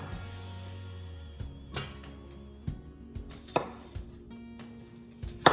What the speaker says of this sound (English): So I've chopped up my red potatoes